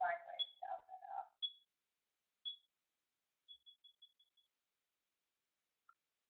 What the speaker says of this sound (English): I'm sure you were at least able to hear the beeping noise.